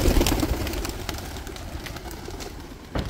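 Pigeons, Vouta breed, are kept in a loft. Soft low cooing and bird calls repeat steadily over a mild background, close by and alone.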